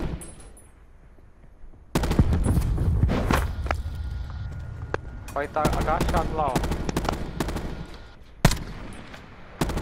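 Rapid automatic gunfire bursts and single shots from a first-person shooter match in blackout mode, loud and close, with footsteps between volleys and players talking over it.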